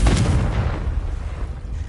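A Confringo blasting spell goes off in Hogwarts Legacy on PS5, a loud, deep boom at the start that rolls into a long, rumbling decay, with no voices over it.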